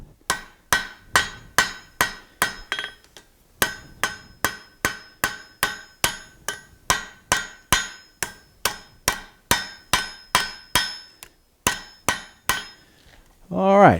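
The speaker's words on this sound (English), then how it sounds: "Light blows, just to shape it so I don't hit the leaf itself." Light hammer blows on the side of an anvil while forging a leaf shape, a steady run of about thirty evenly spaced metallic ringing strikes, close and loud, with no talk.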